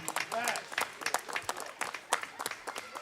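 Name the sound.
audience applause for a speaker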